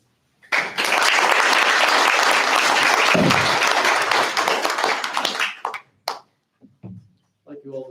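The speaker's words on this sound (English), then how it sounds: "let's clap for them one more time" Town hall meeting audience bursting into loud, dense applause for about five seconds, then thinning into a few scattered claps before fading out.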